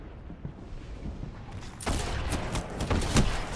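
The Zhalo Supercell gun fires in a video game as a rapid volley of close, sharp shots that grows louder partway through and keeps going in dense bursts.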